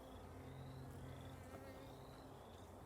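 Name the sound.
honeybee worker buzzing at hive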